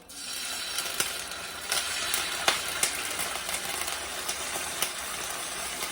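White cooking wine hits a pan with tomato paste for chicken cacciatore, making a steady close sizzle with scattered soft clicks and scrapes of stirring throughout, without talk.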